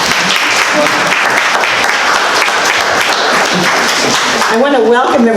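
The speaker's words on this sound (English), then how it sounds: "let's give Lily another round of applause" Audience applause at a Veterans Day program, steady and dense clapping from a crowd indoors, filling the clip before a voice begins speaking near the end.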